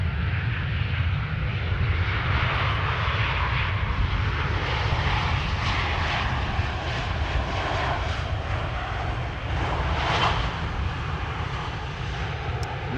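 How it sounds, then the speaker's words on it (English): An EasyJet airliner arriving from Bristol to land on the Polderbaan at Amsterdam Schiphol roars steadily with a broad jet-engine rush, loud and sustained across the whole stretch with no talk. "This is EasyJet flight 22921 arriving from Bristol."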